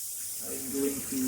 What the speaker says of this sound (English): the best thing I can do is rinse, rinse, and rinse with a lot of water